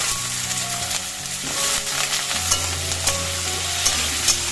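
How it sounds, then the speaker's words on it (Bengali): Cut potatoes and onions frying together in a pan, a steady close sizzle with scraping stir sounds and faint clinks, no voices. "এরপর পেঁয়াজের সাথে আলুগুলো একটু ফ্রাই করবো"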